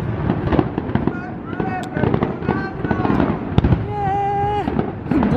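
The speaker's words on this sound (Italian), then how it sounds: "I fuochi d'artificio." Fireworks burst and crackle continuously at a summer holiday celebration, dense popping and booms with whistling streaks, while people talk and cheer over them.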